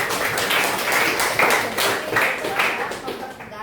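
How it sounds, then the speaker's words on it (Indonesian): A small group claps during an academic coaching session, a steady, dense run of hand claps fairly close to the mic, with faint voices underneath. "Tepuk tangan dulu."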